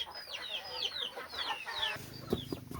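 Ducks in a backyard farm pen give a run of short, bright, chirping calls one after another, fairly close and clear, with a slightly busier stretch near the end and no talking.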